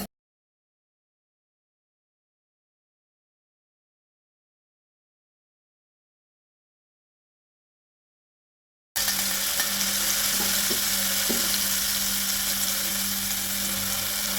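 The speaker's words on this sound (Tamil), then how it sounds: "ஊந்தி பொறிச்சு எடுக்கிறக்காக எண்ணெய் காய வச்சுருந்தோம்" Boondi batter dropping into hot oil for sweet boondi: after a long stretch of silence, a steady, close sizzle of frying begins and continues with a low bubbling undertone, no voices.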